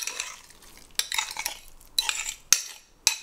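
A spoon stirring chunky guacamole of avocado, fresh jalapeños and other ingredients in a bowl, several distinct scraping, clacking strokes in an uneven rhythm, close and fairly loud with no voices.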